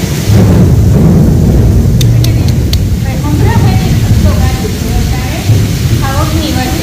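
Thunder rumbles and cracks during a monsoon downpour in a rural Indian village. It is a loud, deep, continuous roll under steady rain, with people talking over it.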